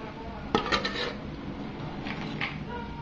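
Sweet candied peanuts coated in sugar being poured into a bowl, heard as a quick clattering rush of nuts against the bowl, a second smaller burst, then quieter rattling.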